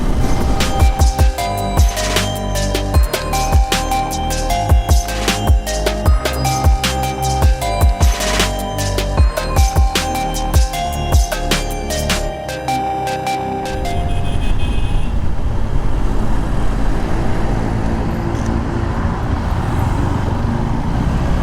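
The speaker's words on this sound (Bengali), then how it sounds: "তিনশো ফিটে আজকে প্রচুর পরিমাণ গাড়ি প্রচুর পরিমাণ বাইক সবাই মোটামুটি এদিকে আসছে" Dense road traffic of cars and motorbikes on Dhaka's 300 Feet road, engines and tyres roaring loudly and continuously, with a heavy vehicle pass and a broadband rumble building near the end.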